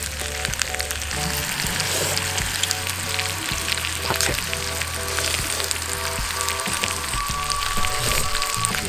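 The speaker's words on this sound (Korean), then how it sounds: "이거 질질 끓는 소리 들리시죠?" Beef chuck flap and wild deodeok root grill on a hot stone slab, giving a steady, close, continuous sizzle and crackle of frying with no pauses and no talking.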